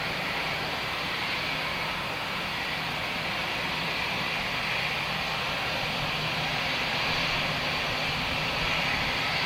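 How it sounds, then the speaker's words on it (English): An EasyJet jet airliner at Luton Airport gives a steady, broad engine roar that holds loud and even throughout, heard from moderately close with no voices over it. "I think we've got another EasyJet coming out."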